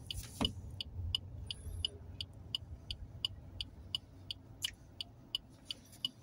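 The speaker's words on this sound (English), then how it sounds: "I'm sure I saw a car." A car passes by at roadworks, a low steady engine rumble building near the start and then easing off, under a faint background hum, with a series of sharp, regular high-pitched clicks or beeps repeating throughout.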